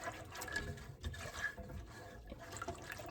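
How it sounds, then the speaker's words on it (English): Eggless batter is pushed through a sieve to strain out lumps, giving soft wet squishing and dripping sounds at close range with no talk. "If I have any lumps, I'll just strain it through a sieve"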